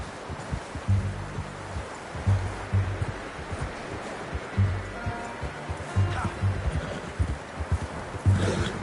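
Horse hooves clip-clopping in a video game, with soft repeated thuds in loose rhythmic bursts, moderately near, under rustling outdoor ambience.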